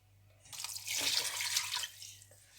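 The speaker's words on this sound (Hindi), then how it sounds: "तो यहाँ पानी डाल दूँगी।" Water poured into a cooking pot of karahi gosht, a steady splashing stream that swells for about a second and a half, then tapers off, with a faint low hum underneath.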